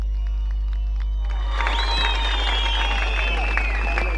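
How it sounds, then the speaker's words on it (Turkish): Rally crowd in Kilis breaking into applause and cheering for Turkish police at a CHP political rally, starting after a quiet opening and swelling into dense, loud, continuous clapping with shouts. "Kahraman Türk polisine bir yürekten alkış yapalım."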